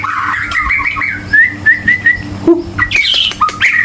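White-rumped shama (murai batu) calling nearby, a run of loud clear whistles, squawks and chirps in quick repeated phrases, no voices.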